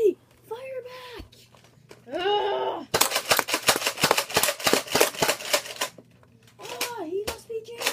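Toy Nerf blasters firing in a Nerf-versus-Lego play battle: a burst of about a dozen sharp, rapid clicking shots, with a voice talking before and after.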